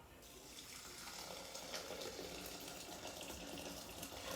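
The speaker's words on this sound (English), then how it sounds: "As you may notice, I'm using actually hot water." Steady stream of hot water pouring and splashing into a bowl, continuous and fairly loud with no pauses.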